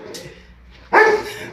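A dog gives a single sharp, close bark after a moment of faint lead-in noise.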